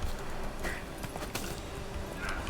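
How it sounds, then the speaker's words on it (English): Horse hooves clip-clop in The Witcher, Roach's steps sounding close and fairly steady over a low ambient bed for a couple of seconds, with no talk. "Oh, that scared the horse away"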